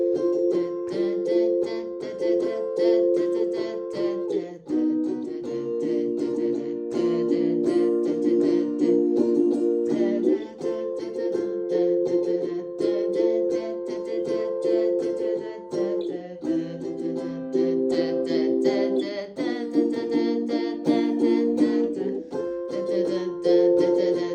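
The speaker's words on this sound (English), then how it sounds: "I'm going to strum it with the fun bar chords" Steady rhythmic strumming of bar chords on a ukulele, bright and continuous, shifting between chord shapes every few beats.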